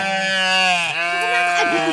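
A goat kid calls for its mother with one long, loud, wavering bleat close by, its pitch dipping midway, on a rural livestock grazing ground.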